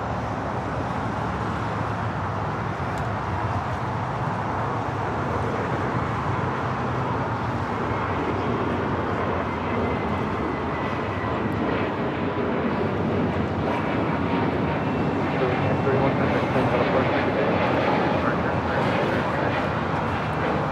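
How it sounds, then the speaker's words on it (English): Spirit Airlines flight 631, an Airbus A320neo, takes off from LAX bound for Atlanta, its steady broadband jet roar filling the scene at a fairly loud, even level and building slightly near the end, with no voices. "This is Spirit Airlines 631 taking off to Atlanta, Georgia on an A320 Neo."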